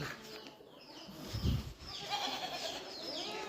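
Goats in a farm shed bleat several times during morning cleaning, over a farmyard's background noise, with one low thump in the middle.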